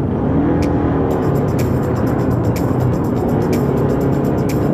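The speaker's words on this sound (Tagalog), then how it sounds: "Every morning napaka-traffic talaga dito" Busy morning road traffic in the Philippines, heard from a moving motorcycle, forms a constant loud rumble of engines with scattered sharp clicks and rattles on top.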